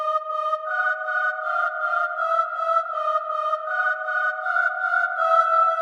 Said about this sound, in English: We now have a sound font called the KBH Real and Swell Choir.